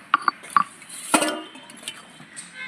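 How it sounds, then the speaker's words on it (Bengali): Metal lid lifted off a pot of steamed taro (mankochu), with a few sharp clinks and clanks up front, then a brighter scrape and rattle, fading to quiet kitchen background. "এবার ঢাকনাটা খুলে নেব।"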